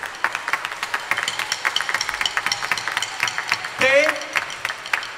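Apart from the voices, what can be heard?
concert audience applause for the organizers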